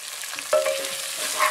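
Carrot, cauliflower and beans fry in a pan while being stirred, a steady sizzle broken by a scrape of the spoon partway through. No voices.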